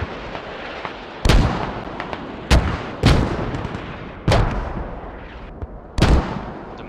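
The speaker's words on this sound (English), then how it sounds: "Enemies are mortaring from Soloniki." Enemy mortar rounds land in a video game, five heavy booming impacts at irregular intervals, each with a sharp crack and a rumbling tail, over a low steady background with no talking.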